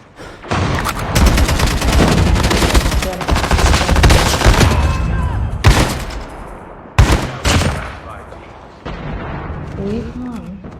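Call of Duty Mobile battle royale gunfire, loud rapid automatic bursts with close shots and short pauses, ending in sparser single shots, with someone talking over parts of it.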